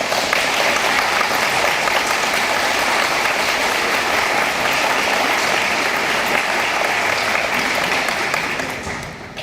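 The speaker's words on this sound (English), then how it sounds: "So let's give them a round of applause." Sustained, dense applause fills an adult high school and equivalency graduation ceremony, steady and loud throughout before tapering slightly at the very end.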